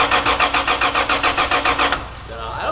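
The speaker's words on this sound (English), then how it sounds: "Hey, your Supra doesn't turn on, dude." Toyota Supra MK4 turbo with a 2JZ engine, abandoned for years and running on old fuel, cranking without catching: a close, rapid, even series of starter pulses for about two seconds before it stops.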